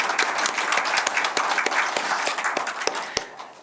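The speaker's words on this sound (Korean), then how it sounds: "우리 박수로 한번 축하하면" A church congregation applauds a member's birthday during a Sunday service, a lively crowd of hands with distinct sharp claps popping through the steady patter.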